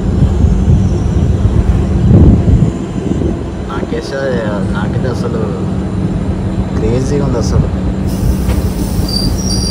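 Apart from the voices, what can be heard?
train travelling from Kurnool to Giddalur through Nallamala forest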